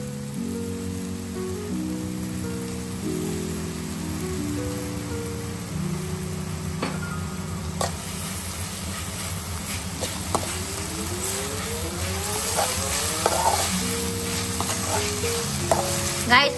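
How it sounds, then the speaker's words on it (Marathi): Steady sizzle of a sprout chilli stir-fry frying in a hot pan as dark soy sauce goes in, with stirring clatter and scraping throughout, close and continuous with no talk. "तर आता यात टाकूया डार्क सोया सॉस"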